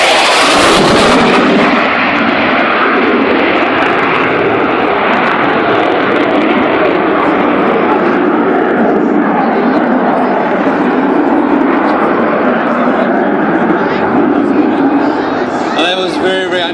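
A Saab Gripen fly-by-wire fighter jet roars through display maneuvers, a loud, sustained, rumbling jet noise that stays strong throughout, with a commentator talking over it.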